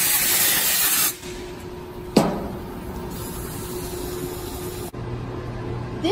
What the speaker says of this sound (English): An air compressed hose is used to ease the cylinder out of the molds.